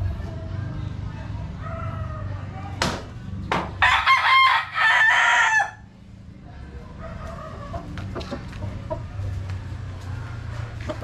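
A rooster held by a handler crows loudly and clearly mid-clip, with scattered clucks and farmyard noise around it and someone talking in the background.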